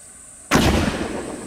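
A hand grenade detonates at a military training range for ROTC cadets: one sudden, loud, booming blast after quiet, followed by a rumbling decay that fades over the next second.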